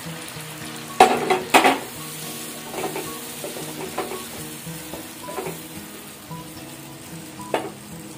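Onions fry in a pan as tomato and drumsticks are added, giving a steady sizzle broken by several sharp clanks and scrapes of stirring, loud at first and then settling, with no speech.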